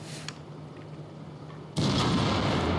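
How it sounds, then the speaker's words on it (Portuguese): A tank cannon fires in the video game World of Tanks, with shells striking the turret; a sharp report early on, then a loud, sustained blast and rumble in the final second. "Então aqui ele já está atirando em mim aqui na torre."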